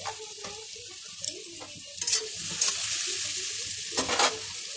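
Grated ginger sizzles in hot oil for chana dal filling, a loud close fry broken by a few sharp spatula clanks and stirring bursts, with no voices.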